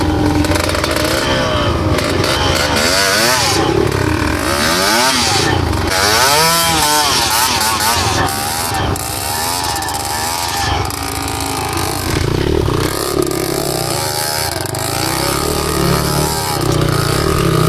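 A loud dirt bike engine revs and roars up close while riding off-road through tall grass in hilly terrain, pitch rising and falling, with a voice briefly audible over the noise.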